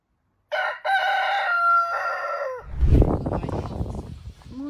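A chicken crows loudly and close by in a long drawn-out call, followed by a burst of noisy squawking and clucking.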